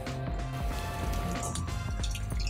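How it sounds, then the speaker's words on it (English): Water hits the hot griddle of a Vulcan Versatile Chef Station during cleaning. It makes a loud, continuous hissing sizzle with bubbling and spattering throughout, heard up close. "Incorporate some water."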